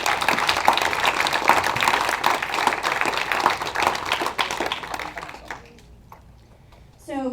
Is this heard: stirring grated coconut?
no